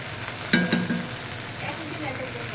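Okra frying uncovered in a pan on a gas stove, giving a steady soft sizzle with a few brief clinks of a utensil near the start.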